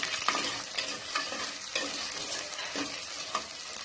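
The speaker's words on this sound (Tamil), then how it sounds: "வெங்காயத்தையும் நல்லா வதக்கிக்கலாம்" Small onions sautéing in hot oil for a tamarind kulambu give a steady close sizzle, broken by a few louder stirring scrapes of a spoon against the pan. No voices.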